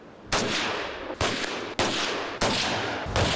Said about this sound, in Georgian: თოფის გამოცდის ჯერიც დადგა. ძმად ნაფიცები ერთმანეთს სროლაში გაეჯიბრნენ.